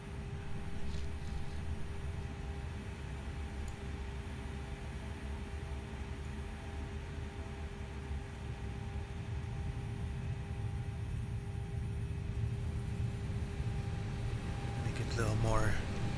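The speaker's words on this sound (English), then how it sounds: "Like the Avionics there, you see it went loud, then it went quieter, so it's gonna do its thing" Steady low electrical hum with broadband hiss from a ToLiss A319 cockpit avionics self-test in a flight simulator sound pack, holding at an even level with faint tonal lines throughout.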